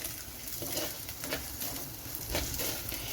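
Onions and ginger sauté in a hot pan with a steady, close sizzle, broken by scraping stirs of the spoon and no voices.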